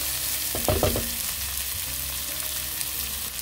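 Seasoned food, salted and dusted with seafood seasoning, sizzles steadily in a pan while a utensil stirs it with a few quick scraping strokes near the start, close and moderately loud.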